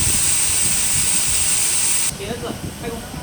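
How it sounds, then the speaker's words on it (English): A compressor refrigeration unit on a direct-cooling block ice machine gives a loud, steady hiss with a bright high whine that drops away abruptly near the end, leaving a lower mechanical rumble. "This is a compressor refrigeration unit."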